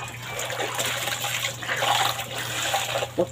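Water gushes steadily from a tap during hand-rinsing of laundry in the early hours, a close, continuous rushing stream with faint splashing and a low hum beneath.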